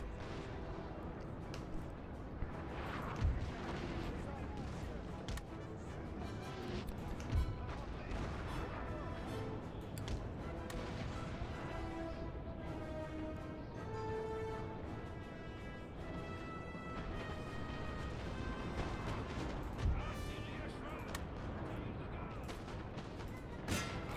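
Sustained Napoleonic battle from Napoleon: Total War, with cannon artillery and musket volleys cracking repeatedly amid a dense, continuous din of gunfire, some louder booms standing out near the front.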